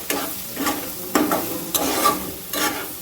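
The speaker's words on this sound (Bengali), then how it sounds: "ভালো করে নেড়ে চেড়ে ডিম 2টো ভালো করে ভেজে নেব" Two eggs frying in a kadai for tarka dal, with repeated scraping stirs, a steady sizzle underneath and several distinct strokes of the utensil.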